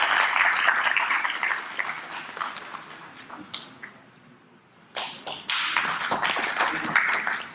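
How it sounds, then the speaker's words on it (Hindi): Applause from an audience welcoming a guest at a university placement drive event, steady clapping that fades to near quiet, then resumes sharply and carries on. "तालियां बजाकर।"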